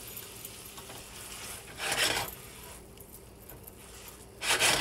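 A spatula scrapes and stirs stuffed mushroom filling in a pan over a turned-up flame, making soft rasping strokes with two louder bursts of scraping, near and alone without speech.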